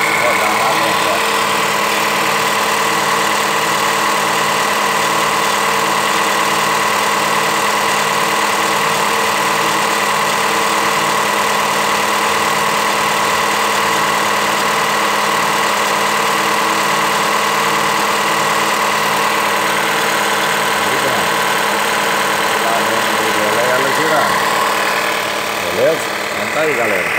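The 1.3 turbo flex T270 engine of a Jeep Compass runs without an air filter, its turbocharger spinning in a loud, steady whine over the constant engine drone, with no pauses.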